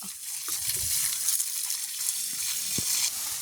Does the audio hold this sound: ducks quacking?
no